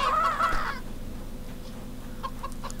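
A chicken in the video game CHKN gives a short, close cluck, followed by quiet ambient game noise with a few faint chirps.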